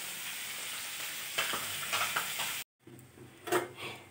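Onions frying in oil in a wok for home-made fried rice give a steady, close, bright sizzle that briefly cuts out, then returns with stirring and scraping.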